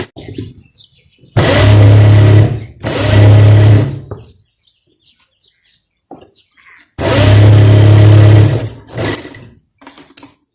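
A sewing machine stitching the seams of capri trousers runs in three loud, close bursts of whirring, the first two back to back and the third after a long pause, with quiet handling noises between them.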